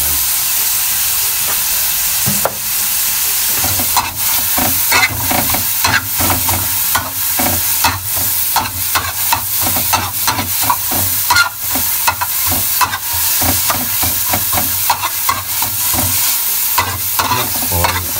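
Ground pork sizzling steadily in oil in a pan, with a dense continuous hiss and repeated scraping stir strokes at a close, loud level, and no talking.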